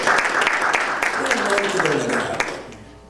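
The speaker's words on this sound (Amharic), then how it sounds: "አጨብጭቡ እናንተ እውነት አጨብጭቡ።" Church congregation applauding during a sermon, a dense steady wash of clapping that continues under a speaking voice before fading near the end.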